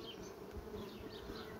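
Honey bees buzz around a beekeeper's hives at the peak of the bee season, a steady, dense drone that is fairly quiet and heard alone without any talking.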